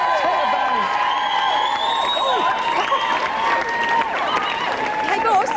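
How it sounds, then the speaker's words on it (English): An audience at a club visit claps and cheers, lively mixed applause with whoops and excited voices talking and shouting over it throughout. "round of applause for Chris"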